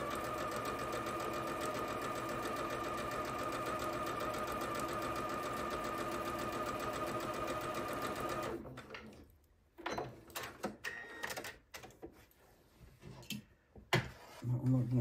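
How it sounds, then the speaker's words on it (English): A sewing machine runs steadily as it stitches charm pack quilt pieces, a continuous whirring hum for about eight seconds before it stops, followed by scattered handling noises and light clatter. "I'm going to put a couple of stitches in and then I'll line up the rest."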